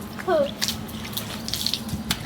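Water pours and splashes in short gushes while someone bathes on a hot day, with a brief voice near the start.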